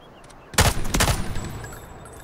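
Burst of gunfire in the video game Delta Force, two sharp volleys of rapid shots about half a second apart after a quiet start, then a fading echo tail; fairly close and loud.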